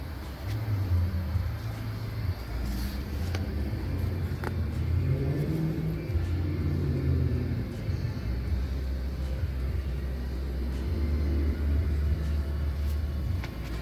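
A pickup truck on a test drive, brought in for feeling loose while driving and turning, rumbles steadily with low engine drone and road noise throughout, close and continuous with slight shifts in pitch as it moves.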